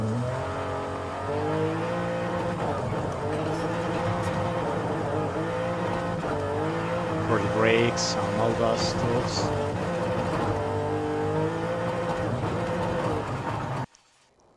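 A BMW M2 from 2023 accelerating in Forza Horizon 5, tuned for circuit racing; a steady engine drone runs throughout, with a clear voice talking over it and a brief tire squeal partway through.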